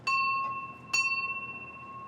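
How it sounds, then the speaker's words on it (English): A bell rings twice at a house door, two bright metallic strikes about a second apart. Each strike holds clear sustained tones that ring on and slowly fade, close by and alone with no voices. "Somebody ringing the bell?"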